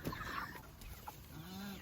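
Homestead chickens heading back into their coop for dinner give soft clucks and short calls at a distance, faint and scattered among low outdoor background noise.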